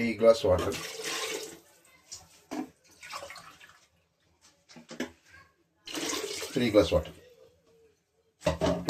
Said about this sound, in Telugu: 3 గ్లాస్ వాటర్ పోసాను.